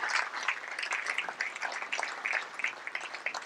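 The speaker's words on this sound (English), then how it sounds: "So give yourselves a warm round of applause" Audience in a mosque giving a warm round of applause, a soft, continuous patter of many hands throughout, fairly faint and even.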